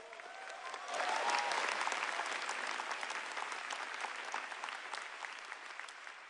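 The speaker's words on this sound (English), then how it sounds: "Everybody give a round of applause to my mom and dad." Sustained audience applause at a tech keynote in Taipei, a steady wash of many hands clapping that rises after the first second and holds evenly throughout, with faint cheers mixed in.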